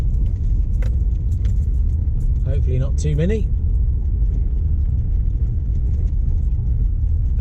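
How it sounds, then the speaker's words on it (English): A car driving slowly along a track to a car park for the barbel fishing season opening, with a steady low engine rumble throughout, occasional faint rattles, and a person speaking briefly near the middle. "We're just driving along the track to the car park."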